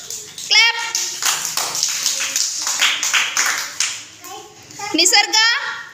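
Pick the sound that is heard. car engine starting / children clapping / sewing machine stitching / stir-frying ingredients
children clapping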